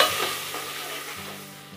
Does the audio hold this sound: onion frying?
yes